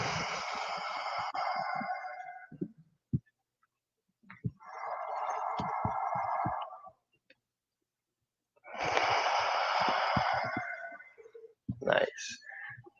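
Deep, slow breaths come close and clear during a yoga session meant as body maintenance for Jiu Jitsu. Long airy inhales and exhales are split by quiet pauses, with a few soft clicks and rustles.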